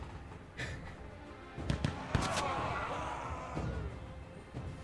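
Cannon fire booms through a PC game session of We. The Revolution: a few sharp, loud blasts and thuds cluster near the middle, set against a steady background of game ambience.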